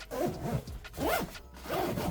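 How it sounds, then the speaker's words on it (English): A backpack's laptop compartment being zipped shut, with three distinct rasping zipper pulls, close and clear with brief pauses between them. "zips up just like that"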